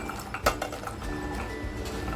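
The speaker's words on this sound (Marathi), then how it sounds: "छोले घेतलेत धुवून स्वच्छ घेतलेत कुकरमध्ये टाकते आहे" Washed chickpeas tipped into a pressure cooker in a home kitchen, with one sharp clink of metal near the start followed by a soft, steady background.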